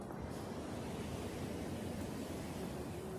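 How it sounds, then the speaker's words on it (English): Water pours steadily over a spillway, a broad constant rushing roar heard close and alone without a break throughout. "This is the spillway."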